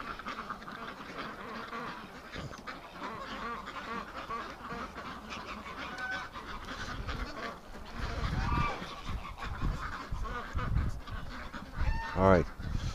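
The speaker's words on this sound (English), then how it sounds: "That's a good whack of ducks wanting water." A crowd of ducks and geese in a barn on a -18.5°C winter morning quack and honk continuously nearby, with louder bursts of honking toward the end.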